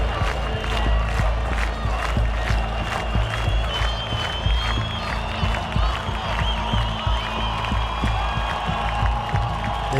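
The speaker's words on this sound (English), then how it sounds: "Do you think possibly they're cheering?" A dense street crowd roars and cheers, mixed with clapping, whistles and shouted voices, a continuous loud wash of sound with no pauses.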